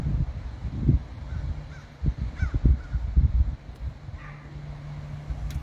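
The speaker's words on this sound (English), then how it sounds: "And the crows are cawing." Crows cawing outdoors on a sunny, windy day, a few faint rough calls at a moderate distance over steady wind noise and low rustling thumps.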